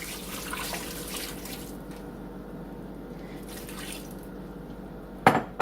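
Tap water runs into a crockpot in a steady, moderately loud stream, with brief clinks of the pot at the end.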